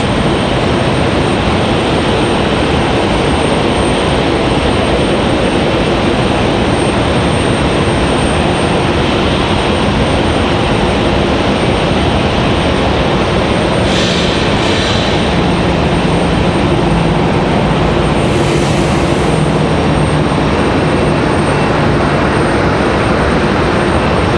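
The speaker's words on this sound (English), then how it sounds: "Got a little American 737 here." An American Airlines Boeing 737 jet arriving at a stormy Raleigh-Durham airport, a loud continuous engine roar that swamps everything for the whole stretch, with no talking.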